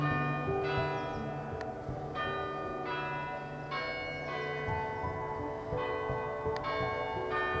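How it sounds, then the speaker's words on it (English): Village church bells in Essex peal in a steady repeating sequence, heard from the churchyard, ringing loudly and continuously over a low background hum. "the church bells are ringing for us as we pass through the churchyard"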